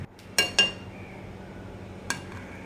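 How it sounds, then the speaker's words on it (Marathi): A spoon clinks against a plate while jaggery sheera is served, three sharp metallic taps, two in quick succession and a softer one after a pause, in a quiet kitchen. "मी त्याला एका प्लेटमध्ये मी काढून घेतला शिरा"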